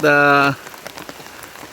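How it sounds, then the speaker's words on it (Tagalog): Rain falls on a farm with bean and bitter gourd plots, a steady, soft patter that follows a brief voice at the start. "maganda dahil umuulan."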